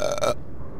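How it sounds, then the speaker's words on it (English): A single short, loud burp right up close, lasting about a third of a second before cutting off into near silence. "I burped."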